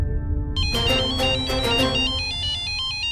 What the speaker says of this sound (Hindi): फिर इस जलातन का फोन आ गया।